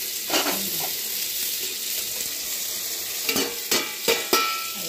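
Potatoes frying in oil in a pan with black cumin seeds tempered in, a steady loud sizzle running throughout, broken near the end by a few sharp stirring scrapes and clatters.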